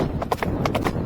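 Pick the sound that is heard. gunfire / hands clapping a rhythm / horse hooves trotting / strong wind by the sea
horse hooves trotting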